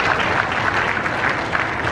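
Steady, dense applause from a large crowd at a Ballia railway station project event with Prime Minister Narendra Modi, continuous clapping at an even level throughout.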